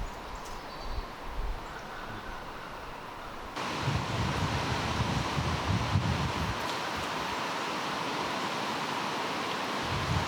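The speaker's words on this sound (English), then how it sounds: "Listen to the birds and the wind." Outdoor wind with steady rustling, a continuous broadband hiss that swells louder partway through and holds, with no voices.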